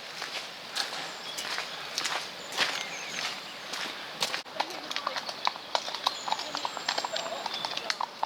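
Horse hooves clip-clop steadily on a lane near stables in a rural Hampshire village, with a few sharper louder strikes among quieter steps, birds chirping faintly in the background.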